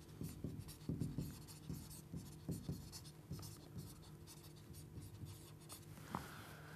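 Pen or marker writing maths notation on a board or paper, a steady run of short scratchy strokes and taps that is fairly faint and close, with no talking.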